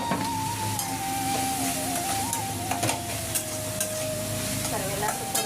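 Upma ingredients with coriander sizzle and crackle as they are stir-fried in a pan, a steady close frying hiss with scraping stirs and a faint tonal hum running through.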